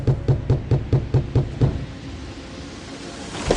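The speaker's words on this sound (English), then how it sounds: "she heard a knock" A quick run of about seven firm knocks on a wooden door, close and loud, followed by quiet room noise.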